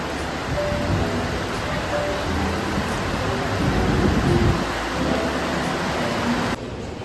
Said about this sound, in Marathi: तुम्हाला दाखवतो पाऊस.